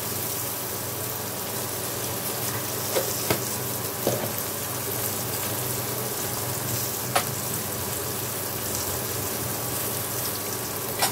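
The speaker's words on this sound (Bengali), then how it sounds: "এখন বেগুনটাকে কিন্তু আমি এইভাবেই হাই হিটেই ভেজে নেব" Eggplant fries in oil on high heat, seasoned with salt and turmeric, giving a steady, dense sizzle throughout with occasional small pops and crackles.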